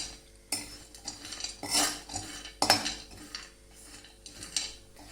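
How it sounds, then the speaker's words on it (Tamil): Almonds roasting dry in a pan for sugarless dry fruit burfi, with repeated bursts of scraping, rattling stirs and clinks of a spatula against metal, close and moderately loud, with no talk. "சோ ஃபர்ஸ்ட் நான் பாதாம் போட்டு வறுக்க போறேன்"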